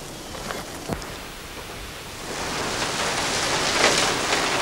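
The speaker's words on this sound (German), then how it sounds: "Es hat angefangen zu regnen." Rain beginning to fall on a farmyard near the Bavarian Forest, a soft steady hiss with a few scattered drops at first that thickens into denser, louder patter over a few seconds.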